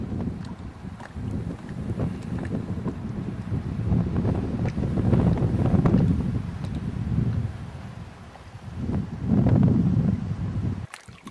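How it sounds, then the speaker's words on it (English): Wind gusting on a mountain slope among sedimentary rock beds, buffeting the microphone in a steady low roar that swells around the middle and again near the end, with no one talking. "there's some wind up here"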